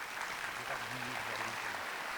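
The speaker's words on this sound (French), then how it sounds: "On les applaudit tous." Audience in a hall at a mayor's New Year reception applauds dignitaries, a faint, continuous wash of clapping with a low murmur of voices underneath.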